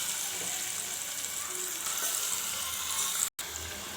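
Chicken pieces sizzle in hot oil with fried onions for a village-style chicken curry, a steady, close, loud crackling hiss with a brief dropout near the end.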